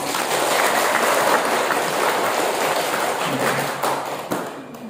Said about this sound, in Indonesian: Tepuk tangan keras sekali.